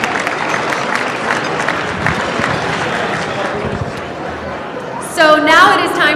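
An audience at a Marriott gala dinner applauds the chef and hotel staff, a dense wash of clapping filling the room before a voice begins speaking near the end.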